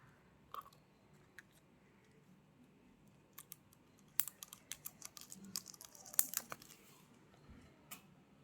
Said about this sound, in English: Let me remove the plastic off of this